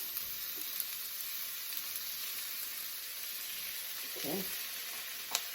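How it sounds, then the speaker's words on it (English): Onions and potatoes sizzle steadily in a hot pan, a continuous frying hiss with a brief spatter burst near the end and a short spoken word over it. "I'm going to put my onions and potatoes in there."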